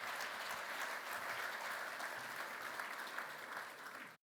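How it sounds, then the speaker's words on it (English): An audience at a seaside charity breakfast for medical ships applauds a guest speaker with sustained, even clapping from a sizeable crowd, steady for about four seconds before cutting off. "Please give him a warm round of applause"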